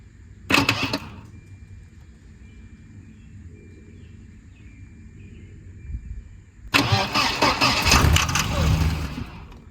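A 1992 Volvo 940 wagon engine cranks in two bursts: a brief turnover, a pause with low background hum, then a longer, rough churning crank that keeps going without firing.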